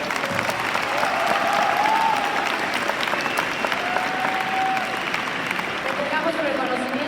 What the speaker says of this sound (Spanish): Un aplauso más fuerte, oigan.